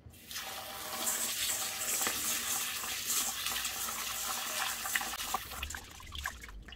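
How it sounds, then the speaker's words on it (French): Sushi rice being washed under cold running water, a steady faucet stream with trickling and sloshing as the grains are rinsed, close and continuous with no talking. "On va enlever l'amidon qui contient dans le riz. Donc, on va faire un lavage à froid"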